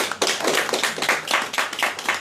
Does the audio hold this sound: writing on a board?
no